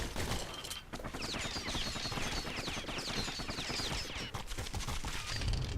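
Dense, continuous bursts of blunderbuss-like spread gunfire from the video game Nuclear Throne, rattling and crackling almost without pause at moderate loudness over a busy game soundscape.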